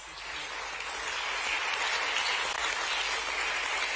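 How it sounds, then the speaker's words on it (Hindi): Sustained applause from an audience at a state sports awards ceremony in Bhopal, a dense, steady clatter of clapping that swells slightly after the first second and holds at an even level to the end, with no one speaking. "तालियां इस बात की कि पूजा जी के पति इस समय उनके साथ हैं।"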